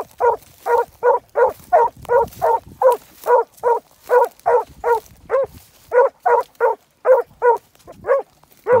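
A hunting gun dog barks repeatedly in a fast, steady rhythm, about twenty loud close barks with brief breaks, outdoors in rough brush.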